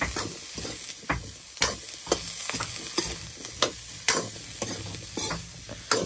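Cauliflower curry stir-fries in a pan, a steady sizzle broken by sharp, regular scraping strokes of a spoon roughly every half second, close and clear with no talking.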